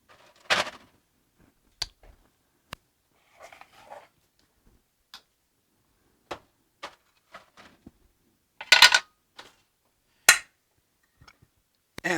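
Two metal loaf pans slid onto an oven rack in a home kitchen at 350 degrees, giving sparse, separate clinks and knocks with quiet gaps between them and no talking.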